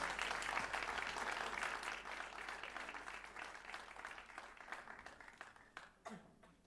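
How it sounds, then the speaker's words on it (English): An audience applauds the Trinity Christian School Choir at a Rhapsody Rotorua concert, dense sustained clapping that fills the room and gradually thins toward the end. "let's give another round of applause. Trinity Christian School Choir"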